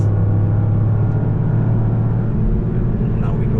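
A Toyota GR Yaris accelerating on the Nürburgring, its engine a loud, steady low drone heard from inside the cabin, with a voice talking over it throughout.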